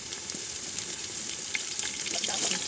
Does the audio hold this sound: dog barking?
no